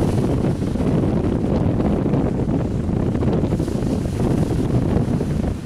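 Strong wind buffeting the microphone with heavy waves surging around an overloaded barge out at sea, a loud continuous roar throughout with no talking.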